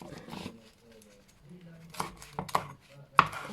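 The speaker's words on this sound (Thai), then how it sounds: "เดี๋ยวเรามาหั่นถั่วพลูกันค่ะ" Knife chopping winged beans on a board in a home kitchen, a few uneven sharp chops and clacks toward the end under a woman's quiet speech.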